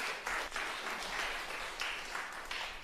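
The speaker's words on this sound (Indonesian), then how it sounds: "Tepuk tangan buat Tuhan." A church congregation applauds for God during a sermon, a steady wash of clapping from many hands filling the room at moderate level, with no voices over it.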